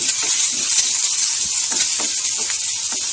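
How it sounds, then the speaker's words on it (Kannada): Oil frying in a pan for an okra dish gives a steady, close sizzle with a bright hiss throughout, broken by occasional soft crackles and light stirring taps, and no talking. "ಜಸ್ಟ್ 1 ನಿಮಿಷದಷ್ಟು ಫ್ರೈ ಮಾಡ್ಕೊಳ್ತೀನಿ"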